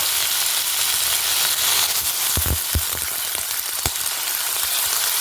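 Tomatoes and green chillies fry in a pan with a steady, loud sizzle and a few soft stirring knocks, no voices.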